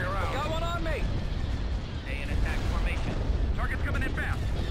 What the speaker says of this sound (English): a lot of small cannon fire there.